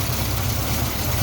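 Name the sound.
Pontiac Chieftain car engine running quietly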